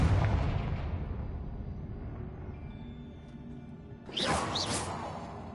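A Confringo blasting spell in Hogwarts Legacy erupts in a loud, rumbling explosion that fades over a few seconds, followed by a sharp whooshing burst with a bright crackle near the end.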